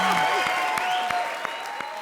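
Studio audience applause at a Hindi comedy show, steady dense clapping filling the whole stretch with a few sharper hits, while voices and a whistle-like tone ride over it.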